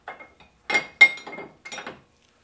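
A 17 bolt slides through a suspension part, giving a few short metallic scrapes and clinks in separate bursts, close up with silence between.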